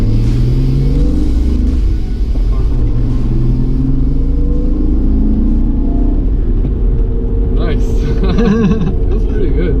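BMW E36 M3 engine fitted with a lightweight flywheel drones loudly from inside the cabin, with a steady low rumble that climbs toward the end as it revs quickly, and a voice is heard over it.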